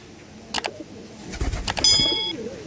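A red pigeon coos close by in a few short soft bursts, with light rustling and small handling noises around it.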